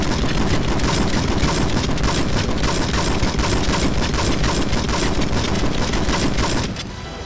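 Rapid sustained gunfire aimed at a helicopter pilot in the game James Bond 007: Agent Under Fire, a dense relentless burst of shots that cuts off abruptly near the end, loud and without talk.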